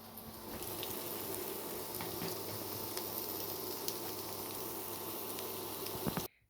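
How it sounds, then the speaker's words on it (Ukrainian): Potato pancakes (deruny) fry in a pan with a steady, close sizzle and scattered small pops and spatters, continuing evenly for several seconds before cutting off abruptly. "Підсолила трішки і викладаю другу партію дирунів."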